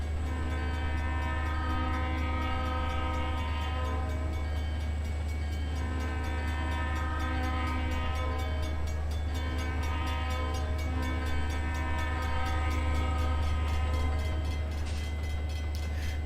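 A train in the Trainz railroad simulator approaches a level crossing. A steady, droning engine rumble runs throughout while a sustained, multi-tone horn blares almost continuously at a constant loud level.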